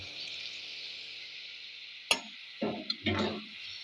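Tomatoes sautéing in a pan for a Kerala-style prawn roast, with a steady sizzle and a few stirring scrapes and knocks near the end.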